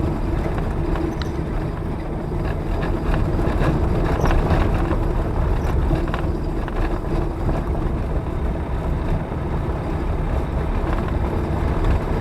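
A vehicle rolls over a gravel road off-road, giving a constant, loud rumbling crunch mixed with wind buffeting, steady throughout with no speech.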